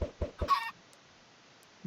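Chickens in the Minecraft video game give a few quick clucks in a row, close and clear, followed by near silence.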